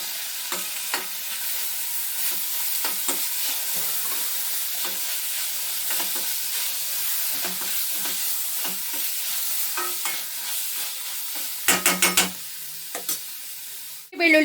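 Chopped onions and two tomatoes fry in a pan for a simple egg gravy, a steady close sizzle broken by scraping stirs and clacks. A burst of sharper knocks comes near the end.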